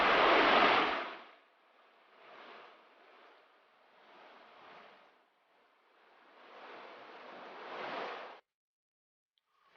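Fast river water rushing over rocks in a deep forest, a steady broadband wash that swells and fades in waves, loud at first and then softer, with no voices.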